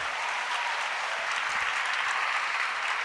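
A crowd at a political event applauds a speaker being introduced, brief steady clapping from many hands, loud and even throughout without talk.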